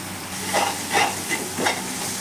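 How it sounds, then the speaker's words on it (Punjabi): Spices and masala with turmeric being stirred in a pan for stuffed bitter gourd (karela), a soft continuous sizzle with three or four brief scraping strokes, close and clear without speech. "ਤੇ ਹੁਣ ਆਪਾਂ ਇਹਨਾਂ ਸਾਰੀਆਂ ਚੀਜ਼ਾਂ ਨੂੰ ਚੰਗੀ ਤਰ੍ਹਾਂ ਦੇ ਨਾਲ ਮਿਲਾ ਦੇਵਾਂਗੇ"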